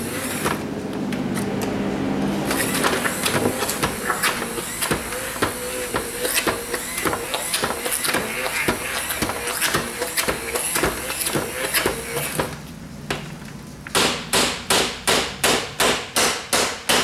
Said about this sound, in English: I'm going to hit it with the stick blender just a little bit.